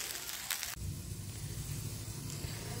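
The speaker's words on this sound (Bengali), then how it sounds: "এরপর দিয়ে দিচ্ছি এটাতে চিংড়ি মাছটা দিয়ে খুব ভালো করে একটু জমিয়ে কষে নেব" Prawns sauté in a pan for egg and prawn dum biryani, giving an even, close sizzling hiss that starts right after a brief clatter and continues steadily throughout.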